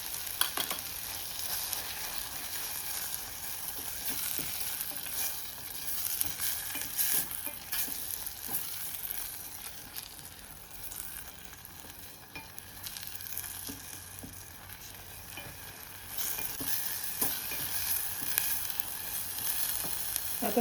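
Coarsely ground masala frying and being stirred in a pan for a Goan konge sukha dish, a steady close sizzle with repeated scraping stirs over it, no voices.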